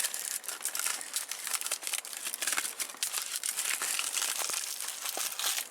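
Close, continuous crinkling and crackling as dry birch bark is crumpled by hand, busy and uneven for several seconds.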